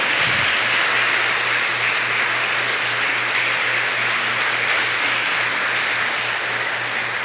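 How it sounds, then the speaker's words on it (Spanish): Church congregation applauding the Lord during a Sunday service, a loud, dense, continuous wash of clapping with a steady low hum underneath. "Denle un gran aplauso al Señor"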